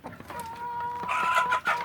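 Free-range village chickens cluck and call nearby, with a sustained tonal rooster-like vocalization followed by a busier burst of clucking, loud and close with no talking.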